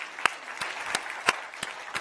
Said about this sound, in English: Let's just give an applause for Danielle Deadwyler.